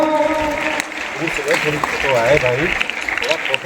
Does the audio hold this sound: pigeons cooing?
no